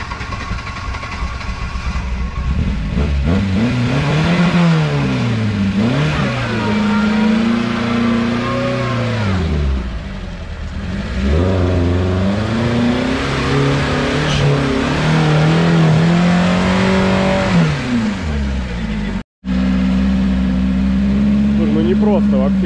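A UAZ off-roader's carburetor engine revs up and down repeatedly, loud and close, rising and falling in pitch with a brief cut near the end, as people talk over it.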